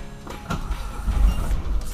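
A boxy Volkswagen Voyage, taken out after months in the garage, starts up: a low engine rumble swells and holds, loud and close.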